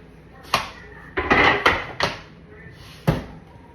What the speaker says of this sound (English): I'm gonna slide this skillet over here out the way.